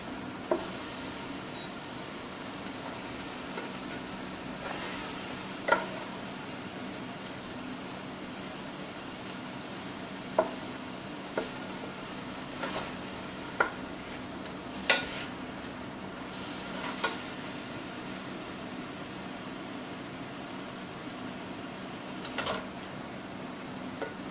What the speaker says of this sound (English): we're just going to kind of saute until it is almost all the way cooked through